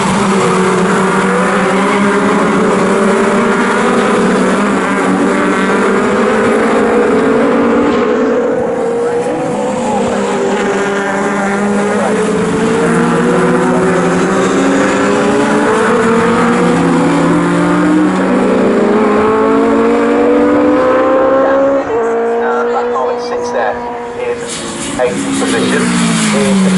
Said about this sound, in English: The number 23 car down the Bentley straight.